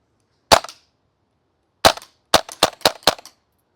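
A Krytac KRISS Vector gas blowback airsoft SMG fires one sharp crack, then after a pause a single shot followed by a quick burst of four snappy pops, each with a short metallic ring, loud and close with no talking.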